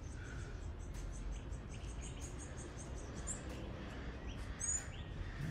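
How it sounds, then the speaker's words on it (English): Small birds chirp and tweet at sunrise in Gambia, faint high calls scattered over a soft steady background hum of insects, with no talking. "All these little bitty birds."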